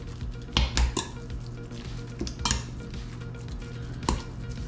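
Sauce is stirred with organic extra virgin olive oil in a pot, producing a few sharp metallic clanks and scrapes of a utensil against the rim over a faint simmer, close by and without talk.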